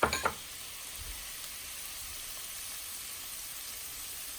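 Shrimp dropped into a hot pan of cooking vegetables, a few sharp clatters at first and then a steady close sizzle that carries on alone.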